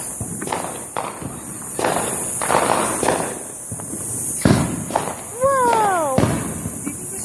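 Fireworks are being set off with repeated loud pops and crackles and a rising whistle near the end, amid shuffling footsteps and people talking nearby.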